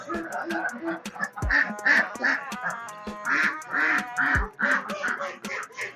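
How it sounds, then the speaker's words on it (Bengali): Ducks at Green Valley Park in Lalpur, Natore, quack loudly and repeatedly before feeding, a dense chorus of overlapping calls with someone talking over them. "ওরা ডাকাডাকি শুরু করে দিয়েছে দর্শক দেখুন এখানে হাঁস"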